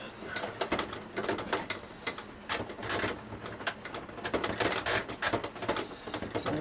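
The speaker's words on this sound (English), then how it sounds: "Now let's go with one of these utility stitches here." A Kenmore 385 sewing machine stitches a utility stitch, its needle running in a steady, rapid mechanical rhythm with whirring and clicking close by, no talk.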